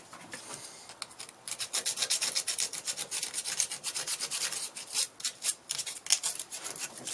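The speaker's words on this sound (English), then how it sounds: "I'm going to sand it and give it a rougher edge. Use my 150." 150-grit sandpaper rubs back and forth across an aluminum piece in quick rhythmic strokes, close and fairly quiet, each pass a short scratchy rasp.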